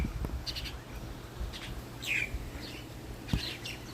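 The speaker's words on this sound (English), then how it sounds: "Those are like 4 or 5 different birds." Several different wild birds chirp and call in short, scattered bursts, some sharper and louder than others, over a faint outdoor background with no talking.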